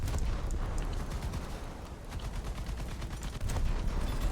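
Rapid gunfire in War Thunder, dense continuous bursts of shots rolling over one another with heavy booming undertones, loud and sustained without pause.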